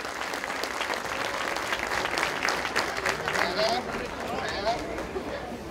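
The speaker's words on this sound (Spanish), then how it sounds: "El aplauso para ellos también por venir a compartir con nosotros." Applause from the crowd at a Fiesta de la Virgen del Carmen celebration, a sustained wash of many hands clapping mixed with crowd murmur, steady and fairly close.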